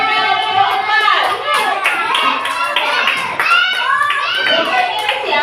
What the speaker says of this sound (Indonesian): Kasih tepuk tangan yang meriah untuk kelompok 4.